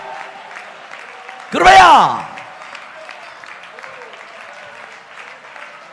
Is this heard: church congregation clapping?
yes